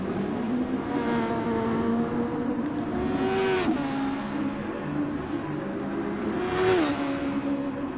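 Race cars in GT Sport at Interlagos weave to warm their tires, engines droning steadily with pitch rising and falling through two sweeping revs, close and continuous without talk.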